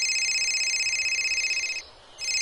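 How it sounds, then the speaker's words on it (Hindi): A telephone rings with a steady electronic tone, loud and close, stopping briefly near the end before sounding again, with no voices over it. "मेरे बेटे का फोन आ रहा है।"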